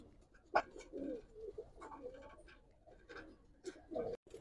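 Giribaz pigeons at a pigeon farm in Old Dhaka give several soft, close coos in uneven bursts, with a sharp tap or flutter near the start and a brief silent gap near the end.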